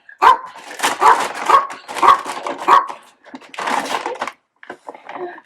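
A dog barks repeatedly in short sharp bursts close by, with whiny yips mixed in between the barks.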